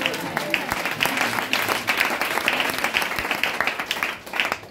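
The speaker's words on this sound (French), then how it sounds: "Est-ce que tu peux lui dire Amen en acclamant?" A church congregation claps and cheers in acclamation, a dense, steady wash of applause with voices mixed in, sustained for several seconds before easing slightly.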